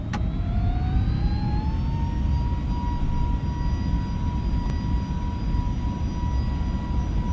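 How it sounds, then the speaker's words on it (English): A321neo jet engines in a flight simulator game, spooling up to takeoff thrust with a rising whine that settles into a steady high tone over a loud, constant broadband roar, no voices. "Gonna make sure that the engines are spooling up in sync, or at least almost in sync."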